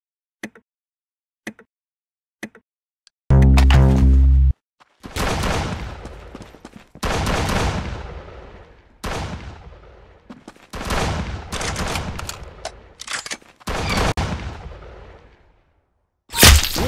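Rapid bursts of gunfire in the Roblox shooter Arsenal, loud and sustained, with short clicks early on followed by dense repeated volleys and whooshes in quick succession.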